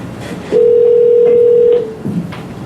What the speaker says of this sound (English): And then we did phone calls as well.